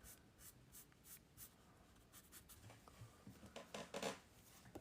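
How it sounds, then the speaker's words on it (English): An 8B graphite pencil shades on paper with soft repeated scratchy strokes, close but quiet, quickening into denser, louder scribbles toward the end. "with that 8B pencil, I'm just going to darken up this eyelid as well."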